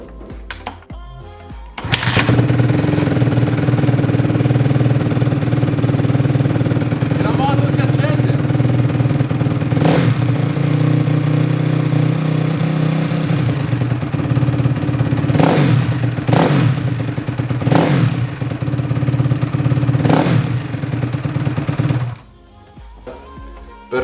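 A motorcycle engine starts up and runs steadily and loud for about twenty seconds, with several sharp revs standing out near the middle and end before it cuts off.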